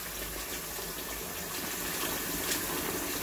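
Water runs while stew peas are washed, giving a soft, continuous gushing and splashing throughout with no talking.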